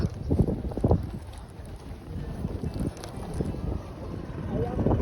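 Wind gusts buffet the microphone on a sandy shore near a boat, a steady low rumble with louder bursts, under faint background sound.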